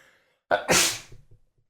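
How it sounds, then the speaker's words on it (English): A single sharp sneeze erupts close by after a brief inhale, followed by a few faint sniffs and movements. "I think I'm about to sneeze."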